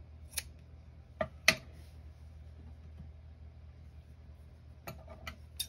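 Scissors snipping through Hobby Lobby chiffon fabric for a rag doll dress, several sharp close cuts spaced irregularly over a low background hum.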